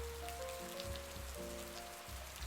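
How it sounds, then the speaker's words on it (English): Rain pours relentlessly outside as a soft, faint, steady patter, mixed with quiet sustained musical tones and no voices. "With the rain pouring relentlessly outside"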